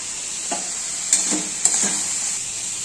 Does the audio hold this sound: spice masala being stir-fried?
yes